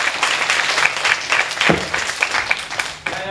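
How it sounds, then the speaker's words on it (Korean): Audience applause welcoming a professor onto a stage at a lecture on Dante: steady, fairly loud clapping from many hands throughout, dipping briefly near the end before resuming. "큰 박수로 모셔주시기 바랍니다."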